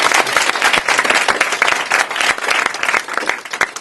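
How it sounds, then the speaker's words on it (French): An audience applauds loudly at a live show, dense continuous clapping from a crowd that holds steady for several seconds. "Si vous avez aimé, à 3, vous applaudissez très fort."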